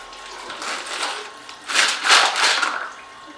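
Water splashes and rattles over small zinc-electroplated metal parts during rinsing, in uneven bursts that grow louder and busier midway through, heard close with no talking.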